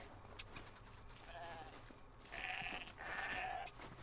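Goat bleating in the video game Horizon Zero Dawn, two drawn-out bleats at moderate distance over a steady game ambience, with no talking.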